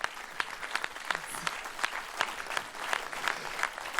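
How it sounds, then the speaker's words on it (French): A live-show audience claps steadily in a dense, moderately loud wash of applause with scattered sharper claps throughout, with no speech. "Diva Paname, avec vos applaudissements, cher public"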